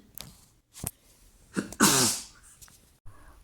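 A single loud, close sneeze bursts out after a few short sharp breaths and clicks, followed by quiet.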